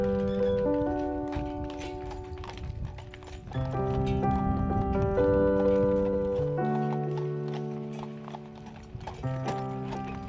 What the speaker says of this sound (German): dass da auf der Straße nicht ein Auto, sondern eine Kutsche an einem vorbeifährt